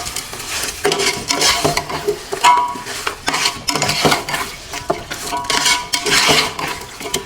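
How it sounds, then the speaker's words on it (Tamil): Mutton mixed by hand with 42 g salt and 12 g chili powder for biryani: loud, close, continuous scraping and clanking of a spoon against a metal vessel in uneven rhythmic strokes. "இதை போட்டு நல்லா கிளறி விட்டுடலாம்."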